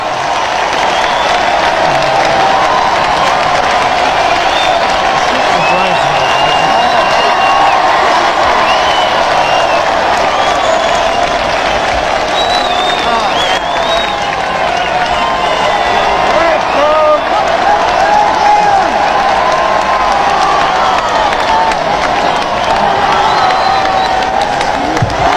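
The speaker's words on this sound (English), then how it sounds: "Receives a roar of approval from the crowd, who call the couple back and back again onto the balcony" A large crowd outside Buckingham Palace roars, cheers and applauds a royal couple on the balcony at a royal wedding, a dense and steady wall of sound with whoops throughout the clip.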